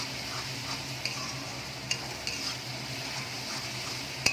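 A spice paste with chili powder, salt and sugar fries in a pan for chicken kofta curry, giving a steady low sizzle with occasional faint stirring clicks and one sharp utensil tap near the end.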